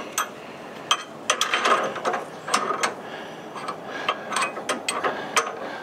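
A wrench on a car's rear coilover adjuster ratchets in short clicking bursts, sometimes single clicks and sometimes quick runs, close and fairly loud, with metallic mechanical rattles between the turns and no speech.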